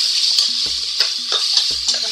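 Minced ginger and garlic sautéing with onions in hot oil for chicken biryani, a steady high sizzle with several sharp spoon scrapes and knocks against the pan at a regular pace.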